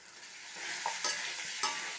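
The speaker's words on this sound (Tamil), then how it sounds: "எல்லாத்தையும் அடி பிடிக்காமல் நல்லா வதக்கிடுங்க" Ridge gourd peel with tamarind sautéing in a pan, a steady sizzle broken by a few sharp scraping stirs of a spatula, close and alone with no voices.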